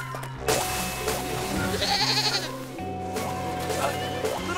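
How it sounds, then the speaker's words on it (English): A cartoon goat bleats in a wavering cry amid a busy animated scene with background music, on an icy hiking trail with rescue pups nearby. "Little goat, stop, it's too icy."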